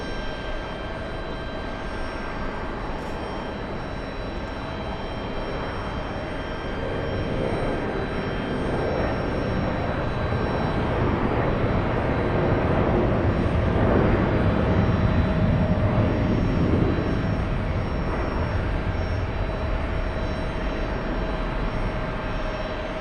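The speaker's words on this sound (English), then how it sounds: "Let's go over to the 757, the one heading to San Francisco." A Delta Boeing 757 jet takes off at JFK airport, its steady engine roar swelling gradually to a loud peak midway before easing slightly, heard from a distance with no talk.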